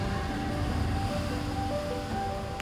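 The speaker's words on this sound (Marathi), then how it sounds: "एवढ्या उंच डोंगरावरून खाली एवढा मोठा धबधबा पडतोय" A large waterfall dropping from a high cliff near Bhandardara Dam, India, roars steadily and continuously with a dense, rushing wash of falling water close by.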